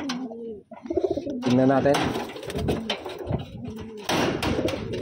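Wantai pigeons coo nearby in a loft, repeating soft throaty calls. Someone talks over them, and a brief clatter is heard.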